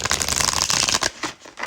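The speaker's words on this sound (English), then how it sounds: "I also shuffled this deck a lot before this reading." A tarot card deck is shuffled in a quick, dense riffle of papery flutters for about a second, then a few softer taps and shuffles, close and alone with no talk.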